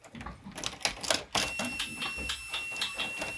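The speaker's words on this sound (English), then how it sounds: "it's just clicking in the engine room" Mercruiser boat engines with a failed starter solenoid give a series of sharp, irregular mechanical clicks from the engine room as the ignition key is turned, fairly quiet and close, with no talking.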